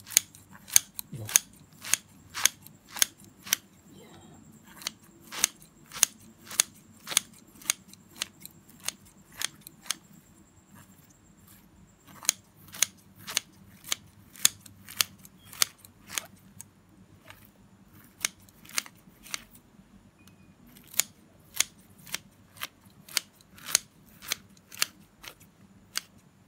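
Scissors snip the roots off a bundle of bean sprouts (tauge) in a long series of crisp, close cuts, coming in quick runs with short pauses and no talking.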